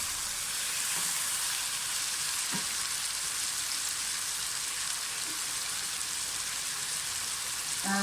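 Chicken frying in a pan for shahi chicken korma, a dense, even hiss of sizzling fat throughout, with a few faint knocks of a spoon, steady and unbroken by any voice.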